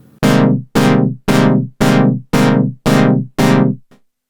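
On a Prophet Rev2 synthesizer, a pad chord with the LFO key-synced is struck seven times in an even rhythm, each bright loud stab starting sharply and quickly darkening before a short gap.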